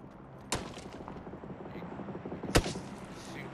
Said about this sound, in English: Shooting away over there.